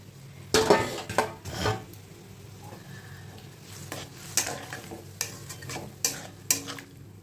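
Magur fish goes into a simmering curry in a pan, with a few sharp utensil clatters and scrapes over a soft, low sizzle. The sounds are quiet and intermittent, with no speech.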